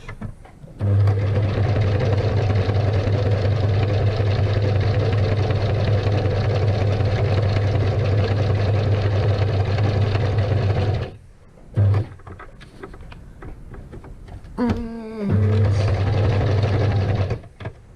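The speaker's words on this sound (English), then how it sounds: "And now I'm going back to zigzag." A sewing machine runs zigzag stitching in a loud, steady mechanical hum close by, stopping briefly near the end, then restarting after a short pause with a few handling clicks.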